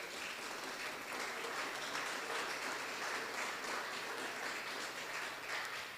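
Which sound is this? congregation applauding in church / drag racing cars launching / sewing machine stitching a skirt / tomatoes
congregation applauding in church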